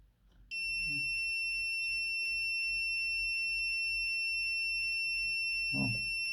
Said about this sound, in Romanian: Și de aici pot să opresc alarma și să dezarmez sistemul.